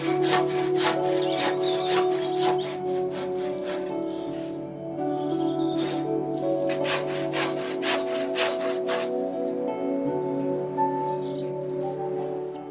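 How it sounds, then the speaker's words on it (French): A hand saw cuts through a wooden pergola rafter in quick, regular back-and-forth strokes, rasping loudly and close, with a short pause midway before the strokes resume. "Ces découpes peuvent se faire simplement avec une scie à main"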